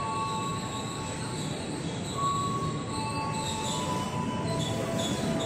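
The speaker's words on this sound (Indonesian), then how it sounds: "Kok keretanya kayak melambat banget itu ya?" KRL commuter train, a 12-car JR 205 series set, slowing into Sudirman station in Jakarta: a continuous rolling rumble with thin, high wheel squeals drifting over it, steady and moderately close.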